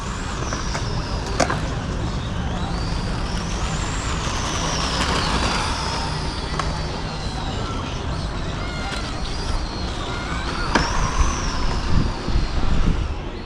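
A Traxxas Mini Rally VXL RC car with a Ford RS200 body drives over cobblestones, its electric motor whining up and down in pitch over a constant rattling rumble from the stones, while someone talks now and then.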